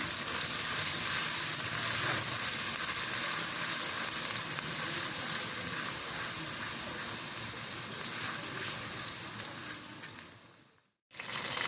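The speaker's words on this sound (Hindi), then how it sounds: "और अब हम इसमें ऐड करेंगे लहसुन अदरक का पेस्ट।" Garlic and ginger paste sizzles loudly in a frying pan with onions for goat trotter paya masala, a dense, constant crackling sizzle up close with faint stirring, cut off sharply just before the end.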